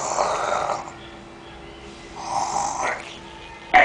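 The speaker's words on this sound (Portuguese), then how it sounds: "Eita, menina, pra roncar." A girl snores lying down, giving two breathy snores a couple of seconds apart, close and fairly soft, followed by a brief louder noise at the end.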